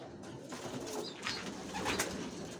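Pigeons in a nesting loft where young birds are being fed give soft, low cooing calls, with a few coos rising out of steady background noise and no talk.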